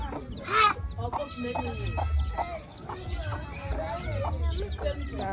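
Several chickens clucking nearby in repeated short bursts, with faint background noise.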